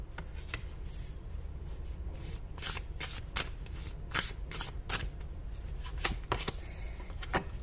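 Tarot cards are shuffled and laid out on a table, a quick series of crisp riffling flicks and soft slaps close by, irregularly spaced over a low background hum, with no voices.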